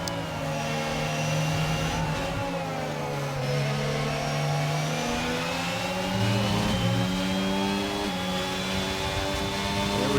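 Formula 1 race cars in a racing video game at the Japan round, engines droning and rising in pitch through gear changes, several cars running together continuously and loud.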